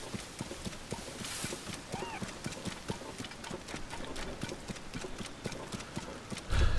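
Horse galloping in Zelda: Tears of the Kingdom, a steady run of clip-clop hoofbeats close by, with a louder thump at the very end.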